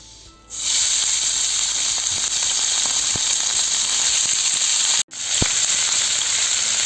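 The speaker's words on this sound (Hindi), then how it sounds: "अब आप चिकन को थोड़ा फ्राई करिए 2-3 मिनट तक।" Chicken pieces frying in lightly heated oil, a loud steady sizzle that starts abruptly and continues with small pops and crackles, briefly cutting out before resuming.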